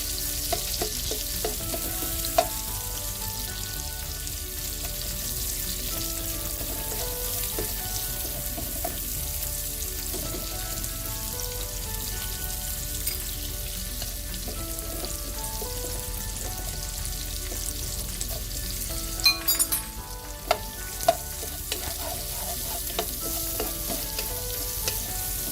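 Onions frying over medium-high heat sizzle continuously while being broken up and stirred in the pan, with scraping utensil clicks and taps surfacing near the end, no talk over it.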